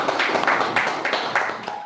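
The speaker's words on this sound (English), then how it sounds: "A round of applause for him, please." An audience gives steady, dense applause that carries on without a break and fades slightly toward the end, with no talking over it.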